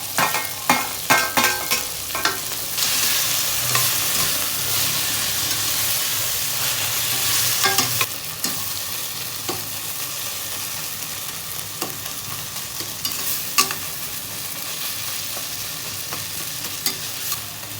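Ginger garlic paste and coriander sautéing in a pan for a Tamil country chicken curry, a loud continuous sizzle and hiss with repeated scraping stirs, clustered at the start and again midway.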